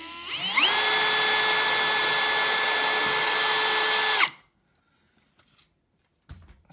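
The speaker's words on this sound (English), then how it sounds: "I'm gonna drill a pilot hole. I have maple trim" A power drill boring a pilot hole into maple trim, a loud steady high whine for about four seconds that winds down abruptly, followed by near silence and a few faint clicks.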